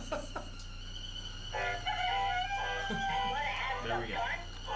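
An electronic rooster crow from a chicken bunny toy, a tinny cock-a-doodle-doo of several warbling notes, with people talking over it.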